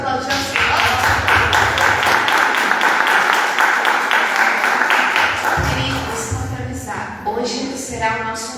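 Church congregation clapping together, a loud, dense burst of rhythmic applause that tapers off after several seconds, followed by voices and scattered shouts.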